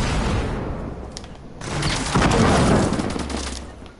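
Sustained minigun fire in the Fortnite battle royale game: a loud, dense, continuous rattling roar that dips briefly and then swells again across the whole stretch, with no talking.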